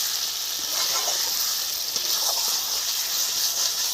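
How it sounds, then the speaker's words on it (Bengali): Potatoes cooking in a pan of half-fried ground spice paste produce a steady, moderate sizzle with faint crackles and occasional stirring scrapes throughout, without any talking. "মশলাটা হাফ ভাজা হয়ে গেছে। এখন আমি আলুগুলো তুলে দেবো।"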